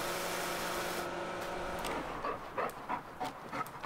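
A dog in Farming Simulator 19 pants in quick, breathy puffs close by, following a steady wash of hissing noise that fades out.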